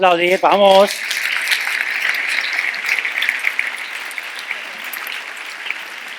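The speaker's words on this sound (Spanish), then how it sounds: "Vamos a aplaudir, vamos." Audience applause at an event in Madrid, a steady broadband patter of many hands sustained for several seconds after a short burst of a voice at the start, fading slightly toward the end.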